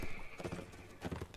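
Horse hooves clip-clopping in the video game Mount and Blade, a steady run of close, fairly loud hoofbeats with a brief whinny-like tone near the start.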